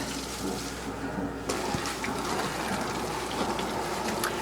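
Water sprays steadily across a boat's deck, rinsing off the salt on a cruise in Mexico. The splashing and rushing is continuous and close, with a slight change in tone partway through.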